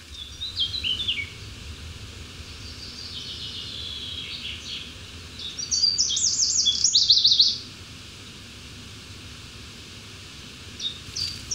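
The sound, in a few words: birds coming to drink from wild teasel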